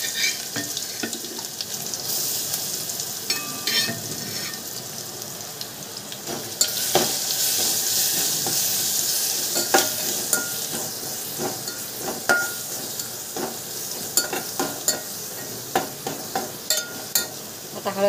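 Onion and garlic paste frying in a pan as it is stirred, a steady close sizzle with frequent clicks and scrapes of the spoon against the metal throughout.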